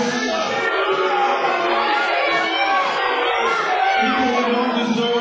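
A crowd at a Florida Championship Wrestling event cheers and shouts, a continuous, loud, mixed roar of voices with chatter throughout.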